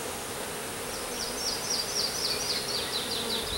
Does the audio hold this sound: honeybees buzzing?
yes